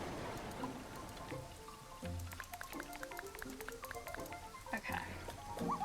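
Soft rain patters steadily in the Sprout Valley video game, a faint continuous ambience with light scattered drips and occasional small game sounds, nothing loud standing out.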